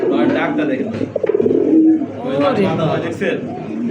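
A pair of jet-black Black Racer pigeons coos in low, throaty rolling calls that run steadily under someone talking close by.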